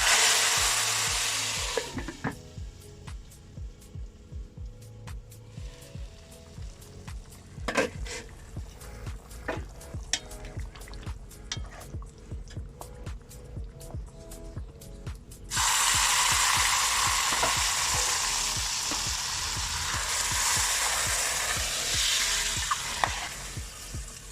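Tempering in mustard oil, poured over pumpkin and lentil dal, crackles and sizzles steadily with scattered sharp pops, growing louder and brighter partway through as more is poured in; no voices.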